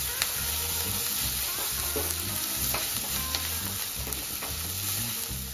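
Onions fry steadily in a hot pan on a gas flame, a continuous close sizzle broken by occasional scraping stirs, with a faint musical tone running beneath.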